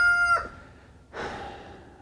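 Two rooster crows ring out close by at an outdoor greenhouse framing site, one ending early and a second, longer call starting about a second later.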